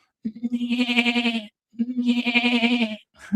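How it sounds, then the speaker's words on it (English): A sheep bleats loudly and close, two long wavering calls separated by a brief pause, with the start of a third at the very end. "It's a herd of sheep, right?"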